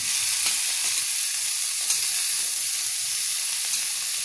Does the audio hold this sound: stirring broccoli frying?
yes